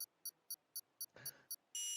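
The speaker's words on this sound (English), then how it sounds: "I can hear the beeping in the background as we get ready for the start of this race" Sharp electronic beeps repeat at an even quarter-second rhythm in the F1 24 racing game countdown before the race start, ending in a longer sustained tone, with a brief low rumble between beeps.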